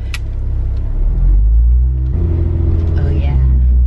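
A Jeep drives with a deep engine rumble and a rolling low road drone heard from inside the cabin. The rumble swells briefly as the vehicle accelerates, and someone talks over it.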